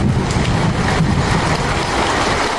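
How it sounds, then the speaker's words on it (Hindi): Heavy rain with a storm in a cartoon story, a loud, dense and continuous roar of downpour with low rumbling underneath, unbroken from start to finish. "एक रात आंधी के साथ साथ बहुत जोरों की बारिश होने लगी।"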